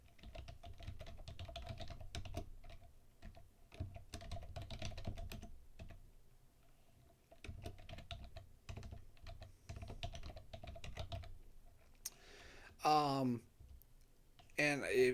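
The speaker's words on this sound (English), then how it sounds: "I'm typing in a lot of things" Rapid bursts of typing on a computer keyboard, with close clicking keystrokes in uneven runs and pauses, and a voice talking over parts of it.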